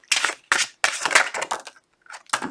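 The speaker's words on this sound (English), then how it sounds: "Two more shuffles, please, Spirit." Tarot cards shuffled in several quick crisp bursts of riffling and slapping, close and fairly loud, with short pauses between, no talking.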